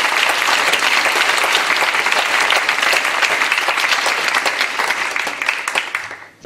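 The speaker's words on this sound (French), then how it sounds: "je vous demanderai là par contre d'applaudir Marie et Sylvie qui ont tapé très fort" A large indoor audience claps loudly and steadily at the opening of a televised French event; the dense applause holds for about six seconds before fading out, with no talk over it.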